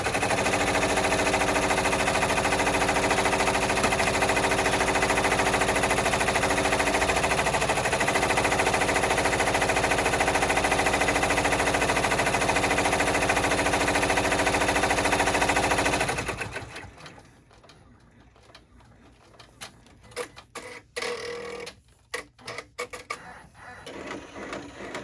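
An embroidery machine stitches appliqué with a fast, continuous mechanical whir and chatter for about sixteen seconds, then stops, leaving quiet scattered handling clicks.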